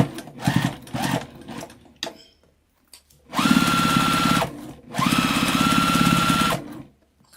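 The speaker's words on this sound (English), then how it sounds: "now I'm lining everything up and I'm going to stitch all the way around." A sewing machine stitching around a tote bag, starting with a few short stuttering bursts, then two long steady runs of fast, close mechanical whirring, each a couple of seconds, with no talk.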